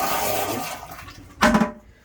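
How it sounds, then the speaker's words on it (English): A porcelain Headhunter Royal Flush RV toilet flushes with a loud, short whoosh of rushing water. It sits inside a short Prevost bus conversion and is heard close up, with a quieter water rumble before it. "and of course my favorite RV toilet, because that flush you just can't beat."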